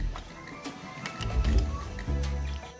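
Horse hooves clatter from a horse-drawn carriage in an animated film, a brief rough rumble of hoofbeats and rolling wheels with a few louder thumps.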